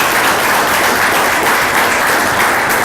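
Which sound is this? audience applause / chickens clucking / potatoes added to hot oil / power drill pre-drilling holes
audience applause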